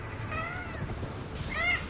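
A pet cat meows a couple of times in a room, with one clear meow near the end, over a steady background hum from a game playing.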